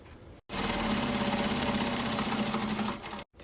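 A sewing machine runs a steady securing stitch through the main fabric and lining of a small pin-up fabric box, a continuous close mechanical whir lasting about three seconds, with brief pauses at the start and end.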